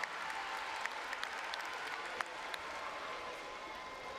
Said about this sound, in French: Une dernière fois, mesdames et messieurs, vos applaudissements et vos encouragements.